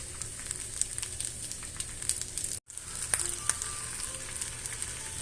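Rib-eye steak sizzling in a cast iron skillet over low to medium heat, a steady close hiss and crackle throughout with a brief dropout midway.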